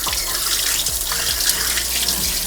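Water runs steadily from a kitchen tap into a sink while raw pork is washed, a constant close splashing flow with small irregular sloshes as the meat is handled.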